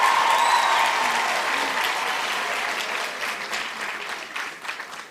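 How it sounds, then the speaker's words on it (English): A graduation audience in Windhoek applauds parents and guardians with dense, sustained clapping that slowly thins and fades over a few seconds. "I'm glad I didn't have to beg for a round of applause."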